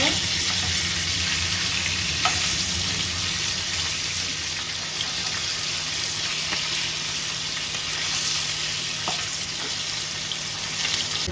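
Pieces of katla fish fry in hot oil in a pan, giving a steady, loud hiss and crackle that holds at an even level through the whole stretch, with a few faint taps.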